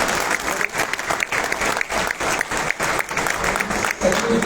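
An audience at a foundation day keynote event bursts into sustained applause, many hands clapping together in a dense, even roar of claps with a few brief dips.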